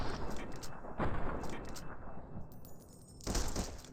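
Gunfire in Fallout: New Vegas: a sharp shot near one second, several smaller pops, and a louder burst toward the end. The shots sit over a steady bed of game ambience and are heard without speech.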